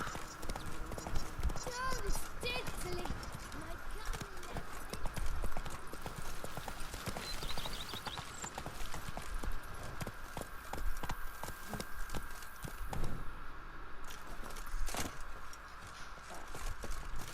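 Roach the horse's hooves clip-clop steadily on a hard surface throughout, in The Witcher 3: Blood and Wine, with voices speaking over the rhythmic footfalls.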